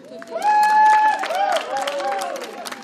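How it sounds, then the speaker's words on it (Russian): Audience applauding at an interuniversity youth arts festival in a hall, a loud burst of clapping and cheering over blended crowd sound, with tonal music or announcer voice running through it. "Ваши аплодисменты!"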